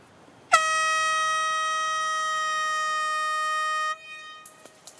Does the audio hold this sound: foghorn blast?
yes